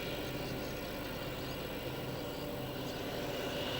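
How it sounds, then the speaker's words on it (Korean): A military propeller airplane drones steadily overhead while spreading fertilizer across wide reed fields, its engine a continuous, loud, even hum that barely changes in pitch throughout. "비행기에 의한 비료 산포를 성과적으로 보장하기 위한"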